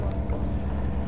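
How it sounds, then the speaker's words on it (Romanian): A boat with a motor approaches the shore across a fjord, a low, steady engine rumble mixed with wind buffeting the microphone, brief and fairly close. "Să tragem o filmare cum vine nenea cu barca"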